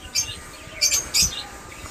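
Budgerigars at a Mirpur bird market give three short clusters of high, bright chirps over a low background hum.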